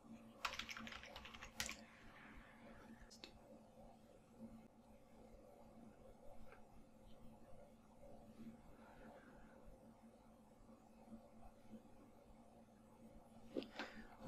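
Quiet clicking of a computer keyboard as a terminal command is typed on Ubuntu, in short bursts of keystrokes with a brief pause, close and soft in an otherwise still room.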